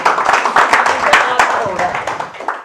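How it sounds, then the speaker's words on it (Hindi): An audience claps together in a sales seminar hall, a quick patter of overlapping hand claps running steadily throughout with a voice faintly mixed in. "उस MDRT, तालियां बजाइए।"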